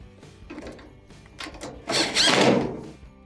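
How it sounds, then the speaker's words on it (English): Two holding screws go back into a Maytag dryer cabinet during a drive belt repair, with a few light knocks followed by a louder, short whirring screwdriver burst close by. "Let's go ahead and reinstall the 2 holding screws."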